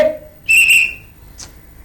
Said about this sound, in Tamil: யாரா விசில் அடிச்சது?